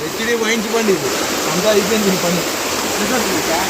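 Floodwater after heavy rain in Srisailam rushes loudly and continuously, a broad steady roar close by, with voices talking over it.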